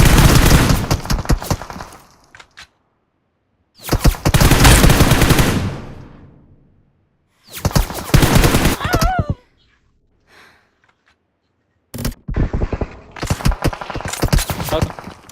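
Gunfire from a shooter video game, spraying in repeated bursts separated by gaps, loud and close, with a gasp-like vocal and brief talk heard between bursts.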